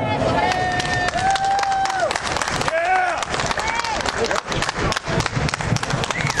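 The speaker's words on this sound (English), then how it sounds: "So if you would give me a warm round of applause for these conservatives, Ashley McLeod and Eric Ray." A crowd at a conservative Tax Day rally claps and cheers, with scattered claps, whistles and excited voices blending into a continuous, fairly loud hubbub that fills the space.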